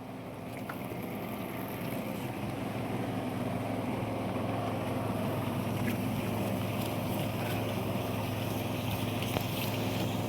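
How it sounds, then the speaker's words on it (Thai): A water pump runs steadily in a mango orchard, giving a continuous, even mechanical drone with a broad rushing noise over it, close by and unbroken throughout, with no voices. "ตอนนี้สูบน้ำได้ 800 ลิตรแล้วพอแล้วเนาะ"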